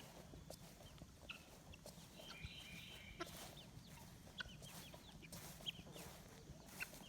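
Young chickens, about two months old, clucking at close range in a backyard flock, with scattered short calls and chirps over steady background noise.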